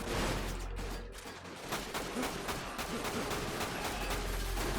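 Rapid, dense gunfire in the Dirge of Cerberus: Final Fantasy VII video game, a continuous burst of shots over loud sustained battle noise.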